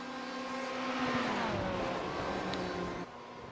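A Radical Porsche race car at Silverstone holds a strong, sustained engine note whose pitch sags midway as it runs on, then drops off abruptly near the end.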